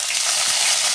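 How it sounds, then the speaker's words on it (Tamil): Curry leaves and green chillies frying in hot oil with cloves and fennel for a peanut gravy, giving a steady, loud, dense sizzle that crackles without pause and stays close throughout. "இந்த நேரத்தில் நம்ம கருவேப்பிலையும் பச்சை மிளகாயும் ஆட் பண்ணிக்கலாம்."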